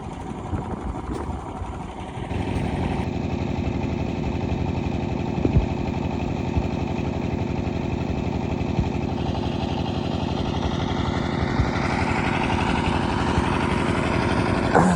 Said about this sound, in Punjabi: ਇੰਨਾ ਹੁਣ ਜਨਰੇਟਰ ਚੱਲ ਗਿਆ